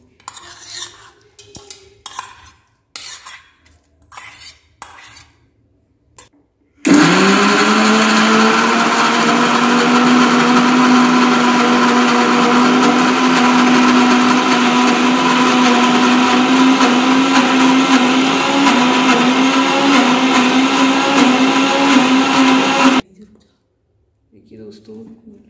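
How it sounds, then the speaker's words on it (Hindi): A mixer grinder runs loud and steady for about sixteen seconds, grinding chillies and garlic, its motor whine holding a constant pitch, with brief talk before it starts and after it stops. "मिर्च और लहसुन को भी ग्राइंड कर लेते हैं।"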